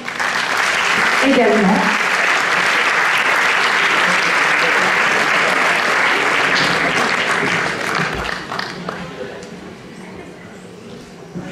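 Loud, dense audience applause fills a hall at the Miss Côte d'Or pageant, steady for several seconds before thinning out, with a presenter's voice briefly speaking over it near the end.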